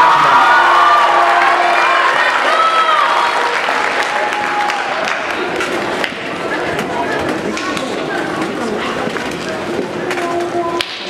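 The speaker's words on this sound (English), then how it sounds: "So let's give them a big round of applause." Audience applause after choir soloists at a fall choir concert: dense, steady clapping with some cheering that fills the whole stretch, loud at first and easing slightly while staying sustained.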